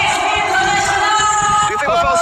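An esports arena crowd at the MSC final between Blacklist and ONIC roars and cheers continuously, a dense, loud wash of many voices with whoops rising above it.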